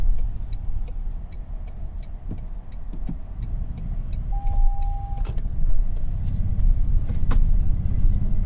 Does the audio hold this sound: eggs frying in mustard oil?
no